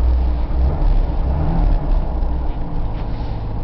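A 1979 Chevrolet Camaro engine idles steadily after a cold start on a 38-degree day, a loud, continuous low rumble with a slight uneven pulse throughout and no talking.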